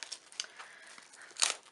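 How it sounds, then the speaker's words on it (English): Plastic packaging for a K-pop photo card set is opened by hand, a run of faint, close crinkles and small tearing crackles that ends in a sharper rustle. "This plastic is easier to open."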